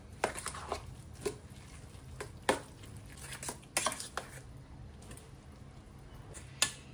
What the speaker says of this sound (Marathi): तर आता ना हे चांगलं मिक्स करणार आहे